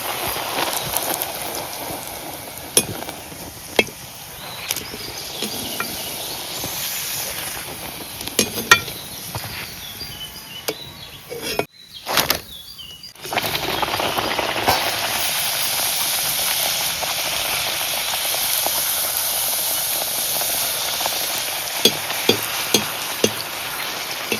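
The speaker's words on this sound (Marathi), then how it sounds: "तर आता तेलात सोडूया. मस्त घरकन वडं फुगलं." Traditional Malvani vade, a puffed fried flatbread, frying in hot oil in a home kitchen: a dense, continuous sizzling hiss with occasional crackles and pops, a brief dropout midway, then steady loud bubbling frying close by without voices.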